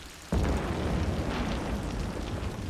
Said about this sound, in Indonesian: Petir, kirain apa?